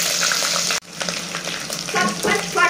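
Garlic paste sizzles steadily in hot oil while chicken pickle is being made, with a brief break in the sound partway through and then a renewed crackle with light stirring.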